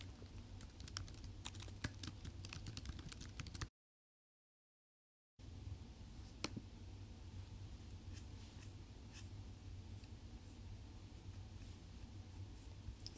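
Close, quiet clicking of keys on a computer keyboard comes in quick irregular bursts, cut by a short silent gap before the typing resumes more sparsely, with no voice.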